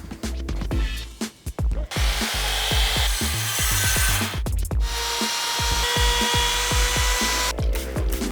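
A sliding compound miter saw cuts wood in two long loud passes, with a string of sharp knocks and clattering between and around the cuts.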